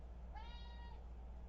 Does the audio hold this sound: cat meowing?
yes